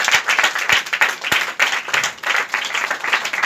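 A church congregation applauding and acclaiming the Lord during a Sunday service: steady, lively clapping from many hands, with brief cheers, continuing for several seconds at close range.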